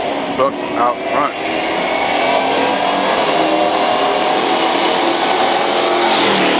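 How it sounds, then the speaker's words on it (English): Pickup trucks racing, a turquoise truck against a black Chevy, with loud continuous engine roar close by that swells and holds steady; a brief crowd or voice noise comes early. "All right, we got Johnathan Ellis in the turquoise truck racing the black Chevy."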